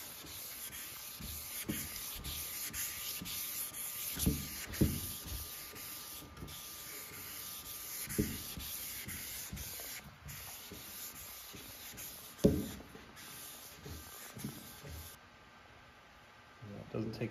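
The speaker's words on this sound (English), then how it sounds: "If we keep sanding, we'll just remove all of the finish." Light hand sanding across the finish of a wooden slab table, a steady scratchy rubbing in repeated strokes at close range, with people talking over parts of it.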